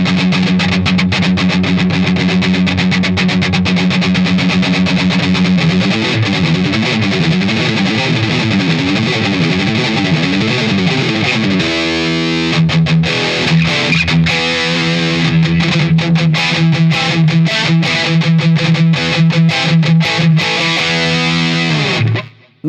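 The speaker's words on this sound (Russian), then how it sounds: "Давай на дисторшне еще послушаем, чтобы было понятно." An electric guitar with heavy distortion is played with a rounded Dunlop Tortex pick, sustained loud chords and riffs running continuously for over twenty seconds with a shift in pattern midway before stopping abruptly.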